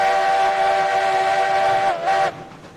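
Freight train in the video game Railroads Online, a steam locomotive's long sustained whistle sounding loud and steady before cutting off abruptly, over a low rolling rumble of cars passing a yard entrance.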